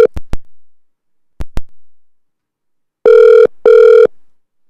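Ringback tone of an outgoing phone call placed live on a Cantonese radio call-in show: a few short clicks, then two long buzzing rings in steady succession, close and clear with no talk over them.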